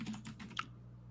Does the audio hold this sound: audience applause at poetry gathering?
no